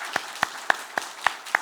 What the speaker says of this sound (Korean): 박상준 집사님, 김정주 집사님 또 같이 한 번 더 박수하겠습니다